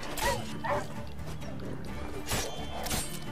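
A dog barks in The Witcher 3: Wild Hunt, a few short yips and barks over a steady game ambience, with someone talking over it.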